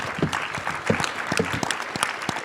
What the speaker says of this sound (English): So let's give Duke and the panel a round of applause